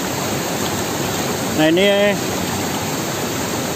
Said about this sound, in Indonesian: air sungai ini bersumber dari